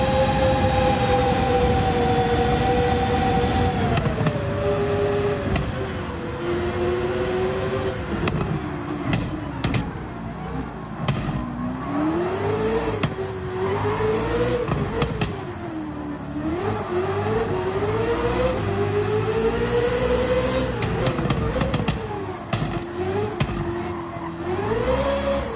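A Corvette CX hypercar races flat out at over 260 mph in Gran Turismo 7. Its engine holds a loud, continuous high-pitched drone that swoops up and down with shifts and corners, with no voices over it.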